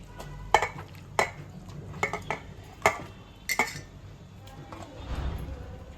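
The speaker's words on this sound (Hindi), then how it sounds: "ये गोश्त भी अब मैं डालूंगी यहाँ पे" Meat goes into a cooking pot for yakhni pulao amid a series of metallic clinks and knocks from a spoon against the pot, ending in a soft low rumble.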